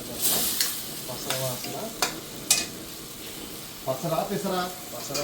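Beans are oil-fried in a pan at a curry point. Spatula scrapes and stirring clatter sit over a low sizzle, and voices talk briefly near the start and again toward the end.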